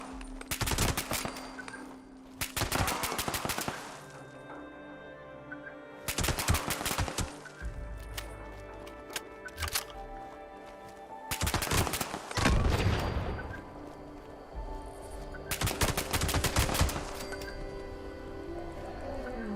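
Gunfire in the video game Fallout 76, several bursts of rapid automatic shots with a slightly stuttering rhythm, separated by quieter gaps of game ambience, loud and close.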